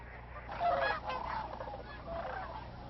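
Geese honk loudly from a wildlife refuge, several bursts of calls carrying over a quiet outdoor background.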